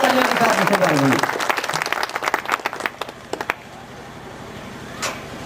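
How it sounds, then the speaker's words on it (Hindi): Loud audience applause at a Bahujan Samaj Party community gathering, dense clapping for about a second that then thins into scattered claps and fades out, with a voice speaking over the crowd. "आप लोग तालियों के साथ जोरदार तालियों के साथ इसे करेंगे।"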